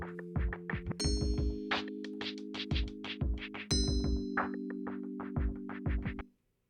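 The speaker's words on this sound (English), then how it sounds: "And now a bell set." Chiming bell-like synth tones play a melody over a light drum beat, ringing clearly before stopping abruptly near the end.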